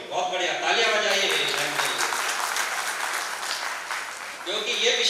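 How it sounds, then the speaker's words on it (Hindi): An audience at a Balram Jayanti seminar and honour ceremony claps for essay competition participants, a broad, steady round of applause with a voice speaking at the start and again as it fades. "वेरी गुड, बहुत बढ़िया, तालियां बजाइए"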